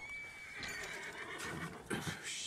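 A horse in the Red Dead Redemption 2 video game gives a brief, fairly faint whinny, with a hint of hoof clopping in the background.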